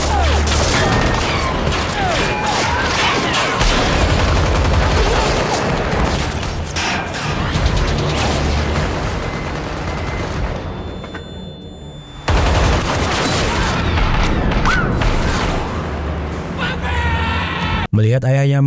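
A gang of gangsters firing many guns at once, a dense, loud, sustained barrage of overlapping shots and booms with heavy low rumble, briefly dropping away near the middle before the volley resumes just as intense.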